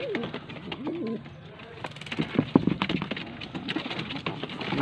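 A pigeon from Faisalabad coos softly and intermittently, close by amid rustling, handling noises and background chatter.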